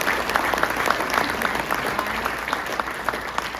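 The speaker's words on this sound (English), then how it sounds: "please give Sophia a round of applause" An audience at an economic forecast presentation applauds steadily, a dense, even patter of many hands clapping close by with no pauses throughout.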